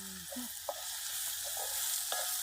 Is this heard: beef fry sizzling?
yes